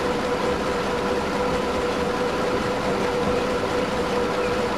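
A kilometre-long freight train rolls through a huge six-track tunnel in Transport Fever 2, giving a steady, dense rumble with a sustained mechanical hum, continuous and close throughout with no talking.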